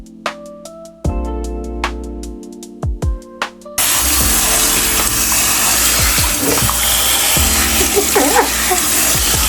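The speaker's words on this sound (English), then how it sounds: "This water aggressive." A strong stream of tap water runs in a sink during a hair care session, a loud steady rush that starts abruptly partway through after some music and clatter, with voices briefly heard.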